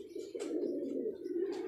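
Domestic pigeons of the dabb variety, kept by a pigeon fancier, coo in a steady low continuous run, close and clear, with a couple of brief higher chirps breaking in.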